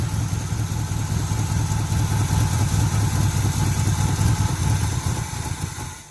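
A 1980 Chevy K10 truck engine, fitted with a new starter and running on carburetor bowl fuel, rumbles at a steady idle with a low, throbbing tone throughout, then trails off near the end.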